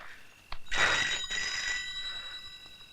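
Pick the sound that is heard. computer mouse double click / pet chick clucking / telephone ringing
telephone ringing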